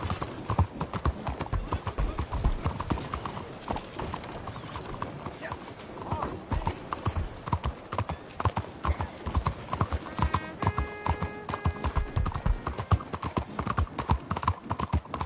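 A horse gallops in the Red Dead Redemption 2 video game, with rapid, steady hoofbeats close and loud throughout, a brief neigh, and a rider urging it on along with occasional light mechanical clinks.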